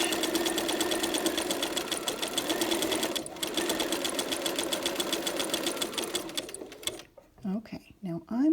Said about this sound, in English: So I'm starting, now I'm just holding that in place. And I'm going to stitch.